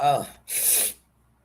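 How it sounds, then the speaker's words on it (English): A single close sneeze from a person indoors: a short voiced intake of breath, then a loud breathy burst lasting about half a second before everything falls quiet. "it's making me sneeze"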